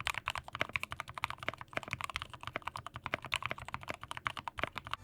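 Rapid, steady typing on a modded metal 60% mechanical keyboard with crisp, deep clacks, close and continuous with no talking.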